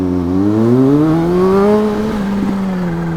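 A 1000cc-plus sport motorcycle engine climbs steadily in pitch as the throttle opens, a loud, close, continuous rising drone that briefly wavers and then holds near the top.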